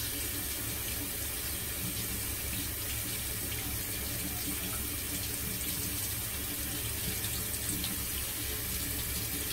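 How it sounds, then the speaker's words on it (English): Tap water runs steadily over a 1912 Gem safety razor being rinsed in a sink, a continuous close hiss and splash with no pauses and no talk. "So we'll give that a rinse here."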